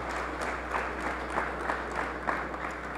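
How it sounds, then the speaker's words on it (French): An indoor audience claps steadily for a few seconds, a dense and fairly close wash of hands with no voices over it. "Applaudissez-vous"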